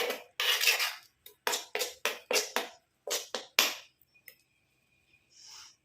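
A hair remedy stirred in a bowl with a spoon, mixed with starchy rice water, gives a run of close, sharp clinking scrapes in quick irregular bursts, then quiet with a faint scrape at the end.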